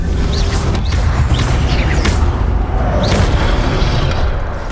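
Fiery blasts and rumbling booms from the Incendio fire spell in Hogwarts Legacy, a loud continuous roar with a few whooshing bursts over a dense low rumble, no talking.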